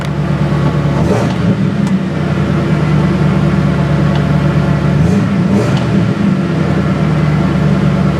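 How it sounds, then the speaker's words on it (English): Ford Bronco engine idling unusually high, a steady loud mechanical drone with a constant low hum and a few brief clicks, close by and without speech. "why is it idling so high?"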